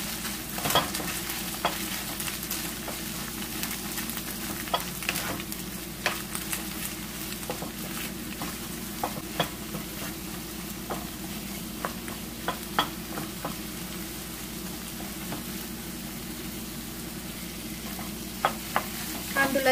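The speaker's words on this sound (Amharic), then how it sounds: "ሁለት ደቂቃ ከአዋዜው ጋር እንዲህ ካበሰልኩኝ በኋላ ሽንኩርት ጨምራለሁ።" Ethiopian awaze tibs frying in a pan, a continuous close sizzle with frequent scraping stir strokes and spoon clicks throughout, no talk.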